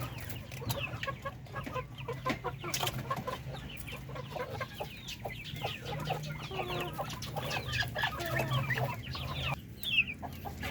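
Chickens cluck continuously at close range while pecking at feed sold at ten pesos per kilo, a busy flock chorus over a steady low farmyard hum.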